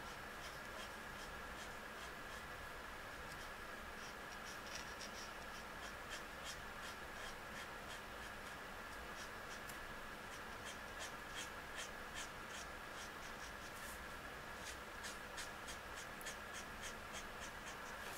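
E21 marker strokes across paper, a steady soft scratching with repeated short rubbing strokes, fairly close and alone, while the sheet begins to curl and buckle.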